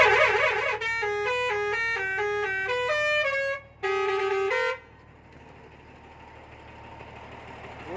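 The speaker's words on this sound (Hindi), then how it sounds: "Horn बजाइए, horn." A musical multi-tone truck horn on a newly built truck body at a garage in Jodhpur plays a loud, melodic sequence of notes for several seconds, then cuts off, leaving a low idling engine rumble.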